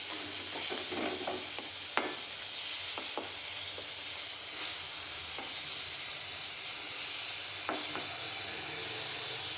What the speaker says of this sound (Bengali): চলো এগুলো তাড়াতাড়ি করে ভেজে নিই